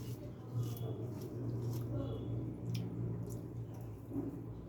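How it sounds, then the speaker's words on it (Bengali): Boiled potato is mashed by hand with green chili, giving soft, wet squishing and squelching at close range in small irregular squeezes. "আলুটা একটু মেখে নেই।"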